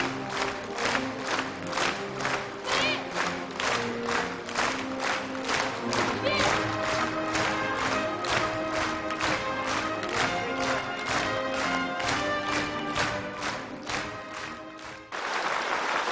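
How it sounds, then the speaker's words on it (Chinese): Warm, sustained applause from a large audience in a hall at a national honours and medal award ceremony in Beijing, a steady dense wash of clapping that continues for about fifteen seconds before fading. "在全场热烈的掌声中，习近平发表重要讲话。"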